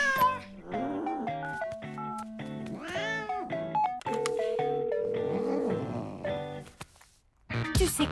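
A cat meows repeatedly in varied, drawn-out and rising calls, close and fairly loud, with a sharp burst of noise at the end.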